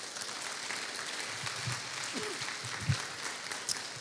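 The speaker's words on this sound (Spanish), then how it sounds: "Denle un aplauso al Señor." A church congregation applauds during a Spanish-language sermon, a steady, fairly faint patter of many hands lasting several seconds, with a few soft voices under it.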